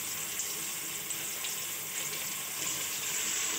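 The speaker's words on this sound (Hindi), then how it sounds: "जी जनाब, प्याज अब हो रही है आहिस्ता आहिस्ता फ्राई।" Onions sizzle gently in hot oil with bay leaves, star anise and cinnamon pieces, a soft steady frying hiss with faint crackles and no talking.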